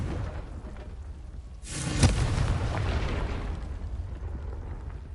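In Hogwarts Legacy, a Confringo fire spell lands as a single loud blast that bursts suddenly, then trails off into a rumbling roar over several seconds.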